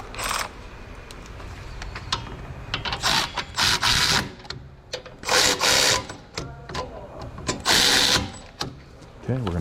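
Ratchet winding bolts into a rear wheel bearing on a 2016 Cadillac SRX, heard as several bursts of rapid clicking spread across the clip, with quieter clanks and handling noise between them.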